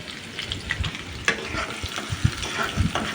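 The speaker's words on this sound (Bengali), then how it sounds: "বেশ কিছুক্ষণ ধরে ভাজবো, যতক্ষণ না পেঁয়াজটা নরম হয়ে যাবে।" Coarsely cut small onion frying in oil in a kadai with cumin seeds, bay leaf and a dried red chilli, a soft continuous sizzle broken by repeated scraping stirs and spatula knocks, close up and alone.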